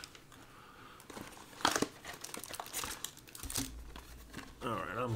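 A 2023 Topps Chrome Basketball card pack is torn open, its foil wrapper crinkling and ripping up close in a run of sharp, uneven bursts.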